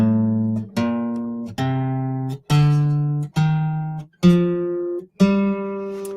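Eight single notes of a natural minor scale rise one at a time, each struck cleanly and left to decay before the next, with short gaps between them, played close and alone.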